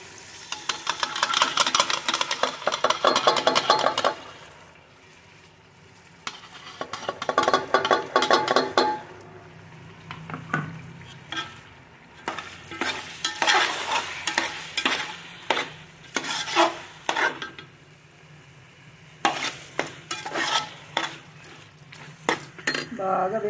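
Tomatoes frying in a pan while a utensil stirs and scrapes against it, in repeated bursts of clatter over a soft sizzle, with quieter pauses between the stirring spells.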